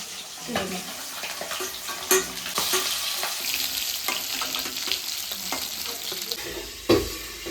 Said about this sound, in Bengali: তা মাগুর মাছটা বেশি ভাজবো না।